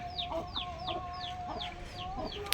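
Hens cluck in a quick, regular series of short calls, fairly close but quiet, over a soft background hum.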